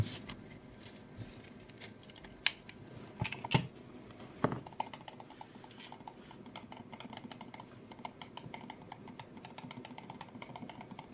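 Silent switches are fitted into an Incott G23 PRO hot-swappable mouse. Small plastic clicks and snaps sound close up, with a few sharper taps in the middle over a quiet, faintly rustling background.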